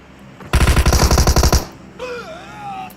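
Rapid automatic gunfire from a video game shooter, a loud close burst of evenly spaced shots lasting about a second, followed by fainter whistling game effects.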